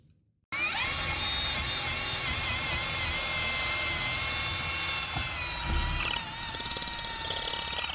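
A drill motor whines steadily and close by drilling into an old trailer frame, its pitch holding even, then becoming rougher and pulsing toward the end.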